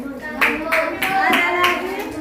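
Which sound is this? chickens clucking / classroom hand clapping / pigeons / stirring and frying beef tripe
classroom hand clapping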